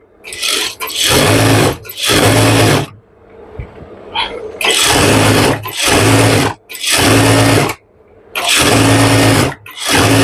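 A sewing machine stitches pajama fabric in loud, close bursts of rapid whirring, with brief pauses and a longer quiet gap of fabric handling between runs.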